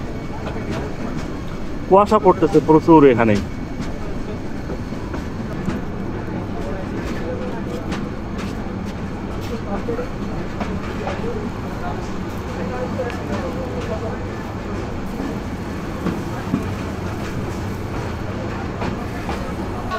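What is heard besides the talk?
cargo train at Comilla railway station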